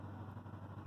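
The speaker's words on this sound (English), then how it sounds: "Here comes switch engine." An SD40-2 switch engine working a rail yard and switching auto racks, heard as a faint, low, steady diesel rumble at a distance, very short and without voices.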